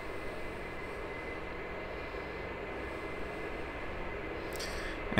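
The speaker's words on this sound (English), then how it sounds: "You will soon hear the engine starting up in the background" A Bombardier Dash-8 Q400 turboprop engine in a flight simulator spins up, a steady droning whoosh that holds through, with a brief sharp click near the end.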